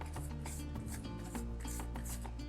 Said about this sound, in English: So I'm just going to use a tissue and just